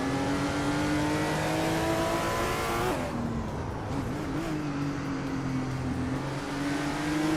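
Race car engines in a racing video game hold a steady high-pitched drone, then drop and climb again through a gear shift, with several cars layered close together and loud.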